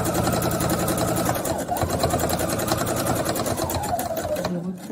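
Sewing machine stitching fabric for a face mask, a dense, loud, continuous motor buzz with rapid needle chatter that persists throughout, slowing slightly near the end.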